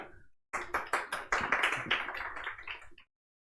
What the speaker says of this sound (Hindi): ताली होनी चाहिए भाई